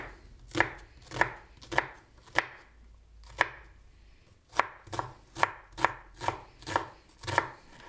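Onions are chopped with a knife on a cutting board, giving steady sharp knocks in a regular rhythm, close and clear, with one short pause partway through.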